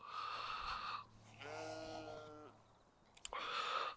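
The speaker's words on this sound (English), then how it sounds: "this is a noisy sheep" A single sheep at a campsite gives one wavering, nasal bleat lasting about a second, fairly near, with soft breathy noise and a brief click around it.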